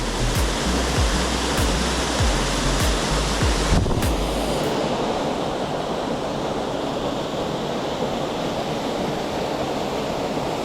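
Race Brook Falls waterfall on a hiking trail, a loud, constant rushing roar of falling water close by, with a few low thumps of wind or handling in the first seconds.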